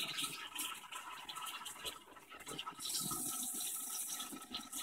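Warm water running from a tap for washing cast-iron cookware, a soft continuous gushing stream with faint splashes, quiet and steady, swelling slightly brighter partway through.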